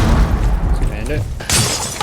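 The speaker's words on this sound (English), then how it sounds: "I have intentionally cooked nades to blow up right in the window" A cooked grenade detonates at a window in the video game Rainbow Six Siege, a sudden sharp blast with shattering burst arriving about halfway through, over a continuous low rumbling game mix.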